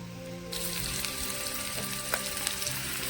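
Garlic sizzles and crackles steadily in hot oil in a pan, close up, with a few soft scrapes and clicks over the continuous frying hiss.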